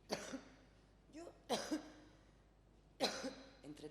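Three separate coughing fits, each a quick burst of harsh coughs, fairly quiet and close, with short pauses between them.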